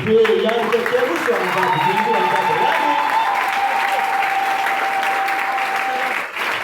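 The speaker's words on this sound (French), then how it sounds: "Sous vos acclamations, il va louer son Dieu." A crowd at a revival meeting applauds and cheers as a preacher comes up, loud steady clapping mixed with voices and a sustained tone like singing or a held note running through.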